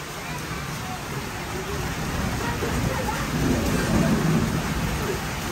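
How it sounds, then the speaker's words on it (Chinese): Heavy rain pouring down on a mountain during a sudden downpour, a dense, steady rushing hiss that swells slightly louder toward the end, with people talking faintly beneath it. "下着雨呢"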